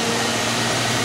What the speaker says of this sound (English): the electric fans have come on.